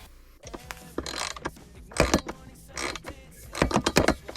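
Mounting bolts are tightened to attach a ski rack on a Ski-Doo Summit snowmobile, with close, busy clicking and metallic rattling from the tool in quick irregular bursts.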